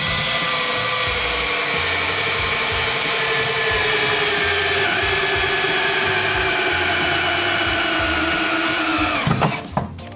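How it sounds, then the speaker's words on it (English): Power drill boring a hole for a custom fourth brake light on a BRZ/GR86/FRS, a steady loud whirring that runs continuously for about nine seconds, then stops with a few clunks at the end. "I got my assistant here, so he's gonna drill the hole"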